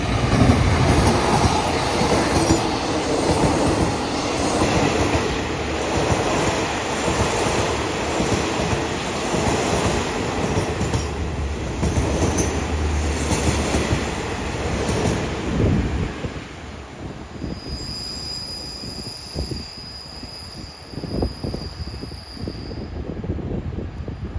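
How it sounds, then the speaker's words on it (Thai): Diesel locomotive QSY 5212 hauling the Thaksin special express passenger train near the Ban Pong curve in Thailand, a loud continuous rumble of engine and rolling wagons with rail clatter, sustained throughout and steady, then a faint high whine joining late. "วันนี้ทำขบวนโดย QSY 5212 ครับ"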